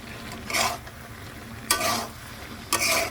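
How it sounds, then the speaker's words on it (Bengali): Curry being sautéed in a pan gives three broad scraping bursts of stirring, evenly spaced, over a low steady sizzle, close and moderately loud with no voices. "তরকারি কষানো হয়ে যাচ্ছে"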